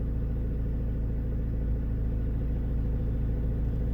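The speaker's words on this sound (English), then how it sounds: "Big old tractor there, look at the size of that thing." A big old tractor engine runs close by with a steady, deep mid-pitched rumble, holding an even level throughout with no talk.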